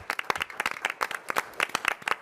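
A small group at a city council meeting claps in scattered, uneven bursts, the sharp hand claps fairly close and clear with no talking over them.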